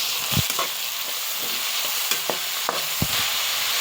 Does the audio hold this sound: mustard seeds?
yes